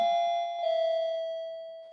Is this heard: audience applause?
no